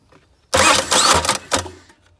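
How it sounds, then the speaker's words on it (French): Starter motor on a Citroën C5 X7 HDi 140 diesel cranking in a workshop: a loud, close whirring burst of about a second and a half in two surges, stopping without the engine catching. "Alors, est-ce qu'il va marcher ce démarreur ou est-ce qu'il est pourri?"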